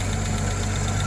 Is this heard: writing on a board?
no